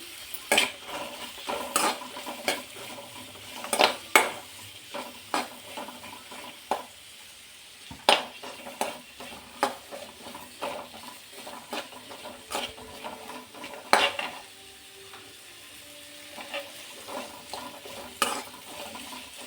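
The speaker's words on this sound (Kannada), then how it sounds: "ಪಾಲಕ್ ಸೊಪ್ಪು ಹಸಿ ವಾಸನೆ ಹೋಗೋ ಗಂಟ ಹುರ್ಕೊಳ್ಳೋಣ" Spinach (palak) being stir-fried in a pan with garlic, ginger, cinnamon and cloves for palak pulao: close, irregular clinks and scrapes of a spoon stirring, over a faint sizzle, with no talk.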